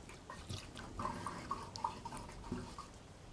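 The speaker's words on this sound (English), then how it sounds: "pausing for a moment to listen to the water gurgle down the drain" Bathwater gurgles down a tub drain after the plug is pulled, soft irregular bubbling and drips close by in a quiet bathroom, alone with no voices.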